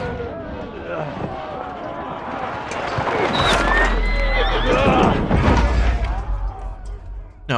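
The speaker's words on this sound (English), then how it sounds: "No, it must have been some other horse." A horse whinnies in Kingdom Come: Deliverance II amid loud, busy game noise during an ambush, with thumps and a heavy low rumble building midway.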